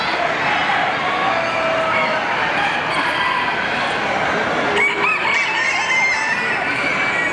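A crowded poultry show hall full of chickens, including naked neck and bantam breeds, clucking and roosters crowing, a constant layered din of birds near and far with murmuring voices mixed in.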